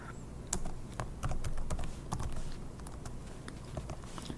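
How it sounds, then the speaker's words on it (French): Typing a sudo apt install command on a computer keyboard for a Samba server setup, a quick irregular patter of close keystrokes over a faint background hum. "je vais taper la commande sudo apt"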